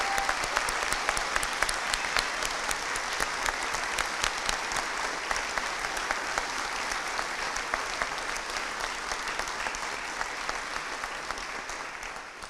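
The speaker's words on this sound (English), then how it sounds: "can we have a round of applause for Shane and the Cornwall Channel team as well?" An audience at the Cornwall Air Ambulance carol concert applauds Shane and the Cornwall Channel team. The clapping is sustained and even, with sharp individual claps standing out, and it runs unbroken for over twelve seconds.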